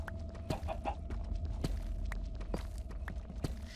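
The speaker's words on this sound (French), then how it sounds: "Max, ton poulet me casse les couilles." A chicken in a Minecraft modpack clucks faintly in short, scattered calls, mixed with sharp footstep clicks and a low steady game background.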